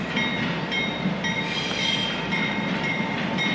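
A freight train rolls steadily past close by, a continuous loud rumble of wheels and cars with faint clatter, no voices over it.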